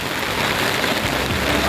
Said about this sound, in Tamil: செமையாக மழை வேற பெய்யுது